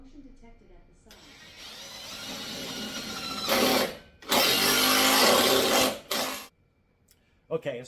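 A power drill whines in two loud bursts while drilling into a wall joist, a short one and then a longer sustained run, with quieter background sounds in between.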